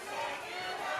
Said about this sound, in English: Now the crowd gets a little out of hand